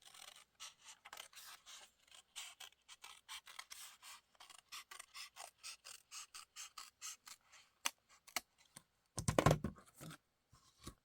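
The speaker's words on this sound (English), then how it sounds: "So I'm just going to trim that down as well." Scissors trimming paper for a junk journal at a craft desk: a steady run of short, close snips and rubbing cuts, followed by a few louder paper rustles near the end, with no talking.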